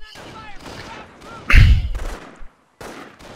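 Incoming gunfire in a strategy video game, a single loud heavy shot or impact in the middle of the clip, with someone talking before and after it.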